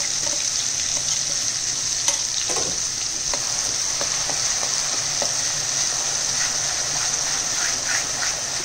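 Masala paste for baby potato masala sizzles and fries steadily in a generous amount of oil, a continuous close crackle with occasional stirring scrapes throughout.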